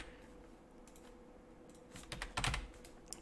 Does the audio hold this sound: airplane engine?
no